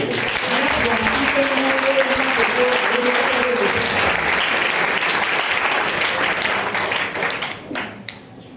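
A church congregation breaks into loud, dense, sustained applause for about seven seconds, with a few voices mixed in, before it tapers off quickly.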